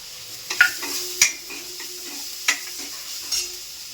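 Coriander powder and a pinch of garam masala go into browned onions frying in a pan, with soft sizzling under several sharp spoon scrapes and taps as they are stirred.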